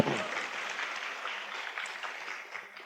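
An indoor audience at a business networking seminar claps together, a dense patter of hands that starts strongest and slowly thins out over a few seconds, fairly faint.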